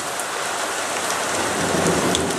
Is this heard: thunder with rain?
yes